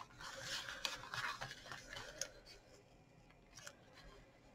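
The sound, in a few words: peeling washi tape off paper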